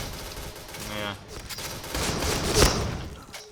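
Rapid shotgun blasts fire in the online shooter game Point Blank, several quick bursts with one loud shot near the end, while a player's voice talks and exclaims over them.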